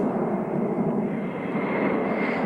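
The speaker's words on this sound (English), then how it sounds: "as those 2 great Deltas, Concorde and Vulcan, purr across the Essex countryside" Concorde and Vulcan delta-wing jets, eight Olympus engines between them, passing over the Essex countryside; a continuous loud, broadband roar that holds steady throughout with no voices.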